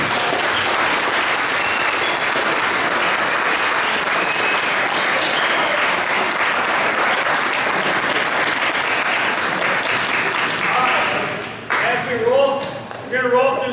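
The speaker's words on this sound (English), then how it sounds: "So let's give these guys one more big round of applause." A football banquet audience gives the coaches a long, loud round of steady applause that fades after about twelve seconds, when a voice begins speaking over the last scattered claps.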